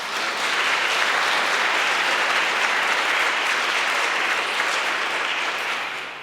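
Loud, sustained applause from a crowd at an award ceremony for a European youth prize in Aachen, dense and even throughout before tapering off at the end.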